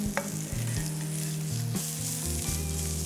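Spinach hissing and sizzling loudly in a hot pan as it is mixed after a short sauté, a steady broadband fry with a low background hum under it, no voices.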